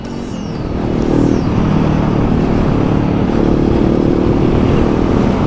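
Voge 525ACX motorcycle on the road, engine rising in the first second and then a steady loud riding drone with wind and road noise, no talking.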